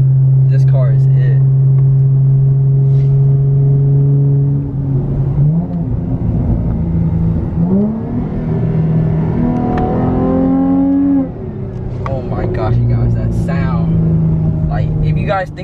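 A Dodge Charger Hellcat engine drones steadily, then climbs in pitch through a long rising rev as it accelerates hard, easing back down toward the end; loud and close, heard from inside the car.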